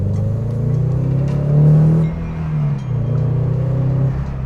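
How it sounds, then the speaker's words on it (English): Toyota GR86 with an aftermarket exhaust revs to about 4,000 RPM, a loud, near engine note that climbs to a peak and then falls back. A second, shorter rise follows, with no talk over it. "Still a very mild exhaust though."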